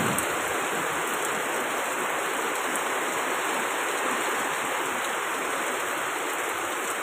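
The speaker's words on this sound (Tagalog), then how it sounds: "umuulan na naman" Heavy rain pours down as a steady, dense hiss of water, loud and unbroken with no voices.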